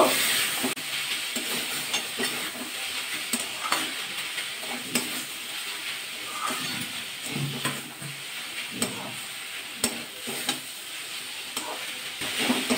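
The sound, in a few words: red amaranth greens cooking in pan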